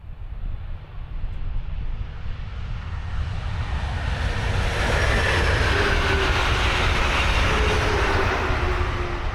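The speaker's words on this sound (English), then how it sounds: "The second train here is the 4-coach Bright Pink." A four-coach Brightline passenger train passes at Dallas Blvd, the second of two back-to-back departures. Its steady rumble grows louder and stays loud and close for about nine seconds, with a faint rhythmic clatter of the wheels and no voices.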